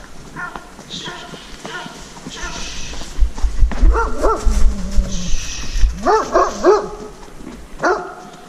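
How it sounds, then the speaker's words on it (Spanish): Several dogs bark in repeated sharp bursts from fairly close by on a horseback trail ride near Barcelona. Hooves clop underneath, and a rider speaks calmly between the barks. "Bien, vamos, ahí están los perros."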